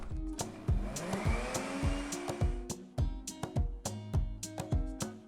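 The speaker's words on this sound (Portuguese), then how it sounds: "Eu vou colocar a quantidade aqui dentro do liquidificador e vou bater ele um pouquinho." A kitchen blender whirs through almond cake batter for Torta de Santiago, cutting in and out in repeated short pulses with sharp clicks and knocks between bursts, loud and close.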